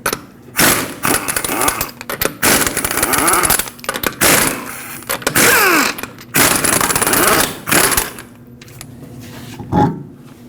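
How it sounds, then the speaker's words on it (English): A power tool fitted with a 22mm socket runs off lug nuts on the rear wheel of a 2009-2015 Honda Pilot, with loud buzzing bursts separated by short pauses, close up and with no talk. "With a 22mm socket, remove all 5 lug nuts and then we'll pull the wheel off."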